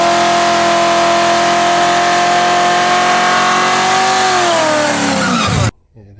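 A supercharged 1986 Mustang GT Foxbody with a bored 302-based stroker of about 352 cubic inches holds a loud, steady high-pitched whine close by, then the pitch falls and it cuts off abruptly near the end.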